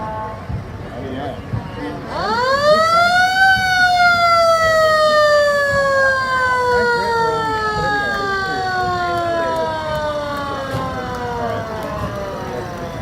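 Fire Engine 16 sounds a loud mechanical siren in a homecoming street parade, winding up fast to a high wail and then slowly falling over many seconds, over crowd noise and talk.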